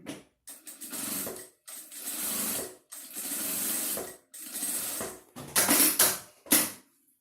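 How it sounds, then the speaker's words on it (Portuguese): A sewing machine stitches a patchwork quilt strip in bursts of mechanical whirring, several runs of a second or so separated by short pauses, close and fairly loud with no talking. "E costura aqui para fechar essa manta."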